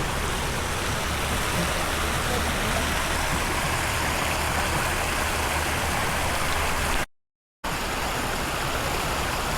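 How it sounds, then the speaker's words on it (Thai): A mountain stream rushes steadily at close range along a road through the Doi Phu Kha hills in Nan, Thailand, a dense and even wash of water broken only by a brief dropout near the end. "จุดลำธาร"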